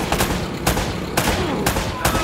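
Gunfire rings out in Uncharted: Drake's Fortune Remastered as sharp, loud bursts repeating roughly every half second, with short rattling volleys between them and no talk.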